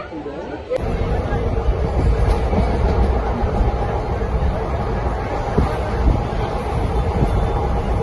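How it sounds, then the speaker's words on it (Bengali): A passenger train starting at Rampurhat station rumbles steadily with a low, continuous drone of wheels and motion, wind rushing past and a murmur of voices in the background. "কিছুক্ষণ বাদেই আমাদের ট্রেনটা স্টার্ট হবে।"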